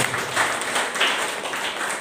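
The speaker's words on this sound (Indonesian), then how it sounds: "Tepuk tangan buat Tuhan." A church congregation applauding during a sermon, a steady dense wash of clapping from many hands that runs through the whole moment at moderate loudness.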